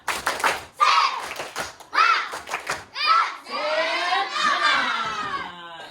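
A classroom of students claps a rhythmic 'tepuk semangat' chant in sharp, patterned bursts, their voices shouting and chanting along, growing into a loud collective cheer by the end.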